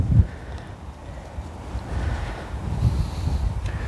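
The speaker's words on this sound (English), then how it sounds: "The wind is just gusting, guys." Blustery wind rumbles against the microphone in uneven gusts, swelling and easing over a few seconds with no voices.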